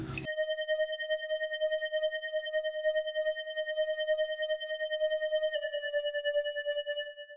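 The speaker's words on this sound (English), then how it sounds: "another Mini V3 preset. It's called the Lucky preset. It sounds like this." A synth melody tone from the Mini V3 Lucky preset, a bright, pure, sustained note with a gently pulsing wobble and a slight pitch step near the end, heard clearly on its own.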